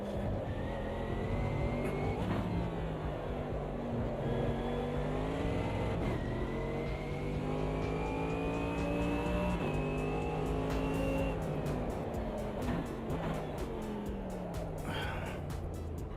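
A Mercedes AMG race car in the Automobilista 2 racing game, its engine revving loudly and continuously, rising and falling through gear changes with sustained high-pitched whine, close and steady throughout with no talk.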